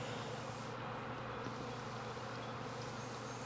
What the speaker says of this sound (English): I should be able to get to that swarm probably with some methodology